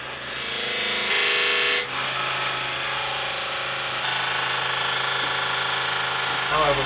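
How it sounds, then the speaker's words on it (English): A skew chisel's point cuts a decorative design into the bottom of a natural edge bowl spinning on a lathe, giving a steady, loud scraping and whirring drone that runs throughout, with the motor hum beneath and a brief dip partway. "I'll also use the point of the skew chisel to put a design into the bottom of the"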